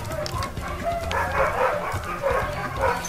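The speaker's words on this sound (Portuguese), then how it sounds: "os cachorros enchem o saco, meu." Dogs bark in the Spyro Reignited Trilogy video game, a few short barks and yips in uneven bursts over a low game background, fairly close with no talking.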